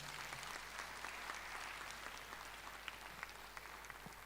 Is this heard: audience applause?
yes